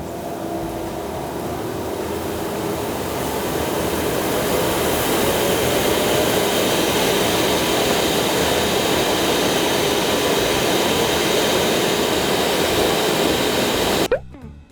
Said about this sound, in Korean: 저 안에 지금 4마력 되는 집진기가 들어가 있고